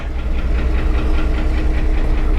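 A 1962 AMC Rambler engine runs steadily at low speed while reversing, with a deep rumbling idle and faint rhythmic pulsing, close by and continuous with no talking.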